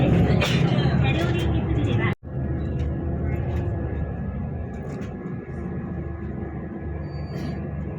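Low engine rumble and road noise inside a city bus in Hakata, Japan, steady and moderately loud, with a brief dropout early on, faint clatter and possible distant voices.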